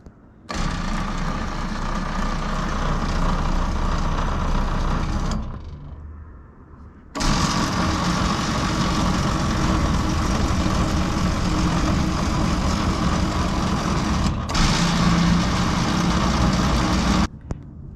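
New lift motor on a homemade sawmill running steadily with a low, even hum, stopping briefly and then starting up again for a longer stretch.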